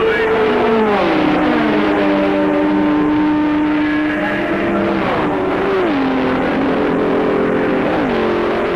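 Ford GT40 and Ferrari race cars at the 1966 Le Mans 24 Hours, engines screaming at high revs with pitch dropping through gear changes and braking, loud and continuous as they pass.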